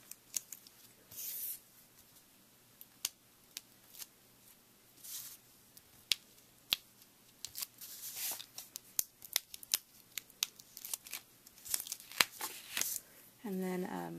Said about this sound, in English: I'm going to pull off my foam tape